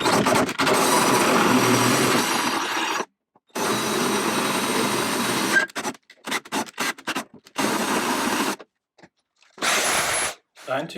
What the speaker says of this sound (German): jetzt der letzte Schritt mit einem 11 mm Bohrer.